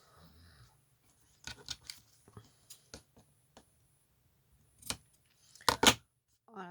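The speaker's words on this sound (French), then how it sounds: "Je coupe une petite bande." Scissors cutting a small strip of white fabric: a handful of sharp, close snips and crisp clicks, scattered and irregular, with a louder double cut near the end and quiet gaps between.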